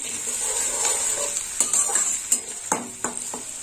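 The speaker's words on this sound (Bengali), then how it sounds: "পেঁয়াজটা একটু লাল লাল ভাজা হবে।" Onions fry in a pan for a Bengali brinjal curry with Bombay duck, giving a steady sizzle under intermittent scraping and stirring taps of a utensil, no talk.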